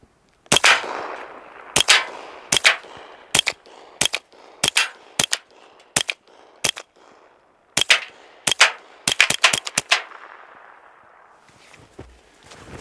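Pistol shots with a Trijicon SRO sight fired at steel targets, about sixteen sharp cracks in an uneven rhythm with a fast cluster near the end, loud and close, no talking.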